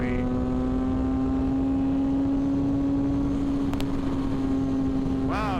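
A 2006 Yamaha FZ6 motorcycle engine drones steadily at high revs while riding, a loud constant tone with wind rush throughout and a quick rising rev swell at the end; a voice talks over it.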